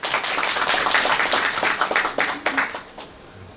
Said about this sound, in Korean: 큰 박수로 모시도록 하겠습니다.